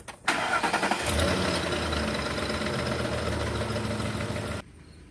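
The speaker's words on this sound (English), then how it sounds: "And then start up the truck." A 2011 Ford Expedition truck engine cranks and catches with a quick start, then settles into a steady, fairly loud idle close by before cutting off near the end.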